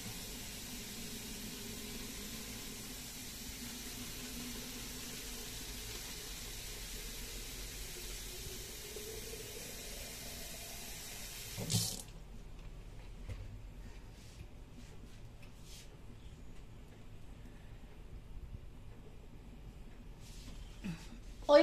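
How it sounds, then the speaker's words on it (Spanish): Tap water runs into a bottle as it is filled, a steady soft hiss for about twelve seconds that then cuts off, leaving quiet room noise with a few faint knocks. "Y le voy a llenar la botella a mi hija de agua."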